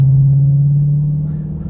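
A 2020 Dodge Challenger R/T engine gives off a deep, steady rumble, close and loud, holding a constant low tone before tapering slightly.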